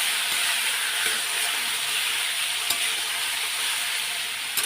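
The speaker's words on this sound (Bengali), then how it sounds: "এখন আমি আলুগুলোকে একটু ভেজে নেব লাল লাল করে।" Washed potatoes fry in a hot pan, giving a steady, dense, close sizzle with faint crackles throughout and no voices.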